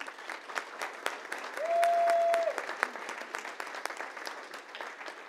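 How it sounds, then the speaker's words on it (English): Moderate applause from a small crowd at a city meeting, distinct individual claps spread evenly, with a short steady tone sounding over the middle. "could we give a round of applause for Lacey?"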